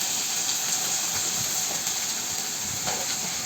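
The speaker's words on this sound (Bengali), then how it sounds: "পেঁয়াজটাকে হালকা বাদামি করে ভেজে নিচ্ছি" Onions frying with three spoons of ginger garlic paste in a pan, cooking greens with lentils: a steady, close, bright sizzling hiss runs without a break, with no talk over it.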